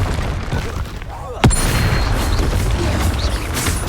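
A sudden booming burst from the Confringo fire spell in the video game Hogwarts Legacy cuts through steady combat noise, one sharp blast followed by a lingering rumble.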